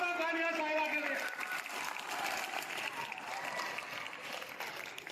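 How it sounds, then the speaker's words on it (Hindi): Applause at a school ceremony honoring a donor, a crowd clapping steadily through the stretch, starting under a speaker's voice over a loudspeaker and continuing as the voice drops away, fairly distant. "जोरदार तालियां बजाइए"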